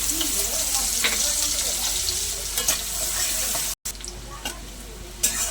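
Onion and chili sizzle steadily in hot oil, with occasional stirring scrapes and a brief break near the end.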